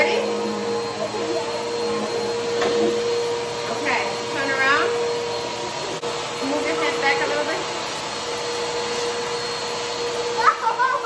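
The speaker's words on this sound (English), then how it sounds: "let me go ahead and get the vacuum cleaner, you guys. It's about to get loud" A vacuum cleaner roars steadily throughout, with a voice and other brief vocal sounds rising over the drone now and then.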